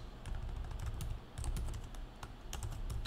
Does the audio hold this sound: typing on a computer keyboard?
yes